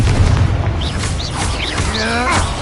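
A Confringo fire spell from Hogwarts Legacy blasts in a goblin mine: a loud, sustained roaring burst laced with whooshing, whistling magical tones.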